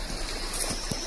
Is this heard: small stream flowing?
yes